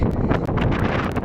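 Strong wind buffets the microphone in loud, rough gusts throughout the short stretch.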